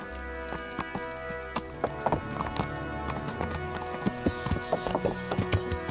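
Horses in the medieval video game Kingdom Come Deliverance, with steady hoof clip-clops that grow louder and denser toward the end, over a low droning game soundtrack.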